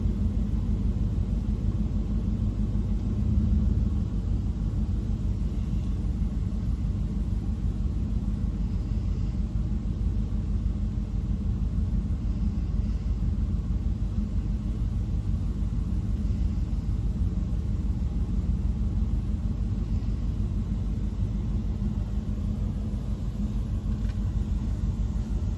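A D&S 5000 automatic car wash machine runs in a wash bay with a steady, loud low rumble and constant mechanical drone throughout, no speech.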